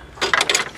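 A ratchet tightens an oxygen sensor on a car, giving one quick, close burst of a few sharp clicks.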